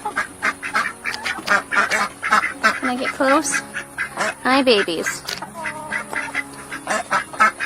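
Cayuga ducklings quack steadily and close by while someone talks softly over them, her voice rising into a few high, gentle calls.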